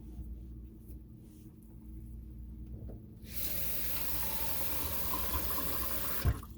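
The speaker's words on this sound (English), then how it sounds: "Okay, we're going to pour some water in here." Water poured into a container holding rust-removal mix for tools, a broad steady hissing splash that starts midway and runs continuously to the end, fairly close, after a quieter stretch of low room rumble.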